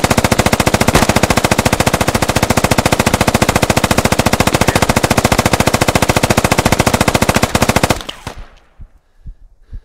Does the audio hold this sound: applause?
no